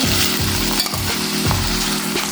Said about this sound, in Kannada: ಈಗ ಪುನಃ ಫ್ರೈ ಮಾಡಬೇಕು